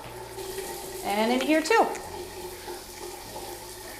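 Hot water runs from a faucet in a Las Vegas house, a brief splashing rush that swells and fades under a speaking voice, with a low steady hum in the background.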